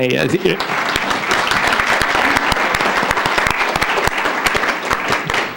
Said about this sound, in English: we're doing claps tonight